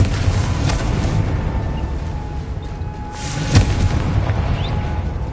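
Confringo fire spell blast in Hogwarts Legacy, a sustained loud roaring rumble with a sharper boom partway through, steady and heavy with no talking.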